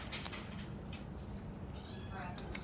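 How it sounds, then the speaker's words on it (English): An indoor house cat meows loudly and insistently in a couple of short cries, close to the listener, over steady background noise with a person talking nearby. "The cat just yelled at me and said no."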